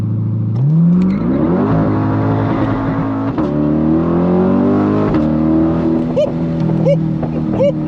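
A Corvette C8 engine revs hard on launch control, a loud sustained roar climbing in pitch and holding high with sharp shifts, alongside people talking and exclaiming inside the car.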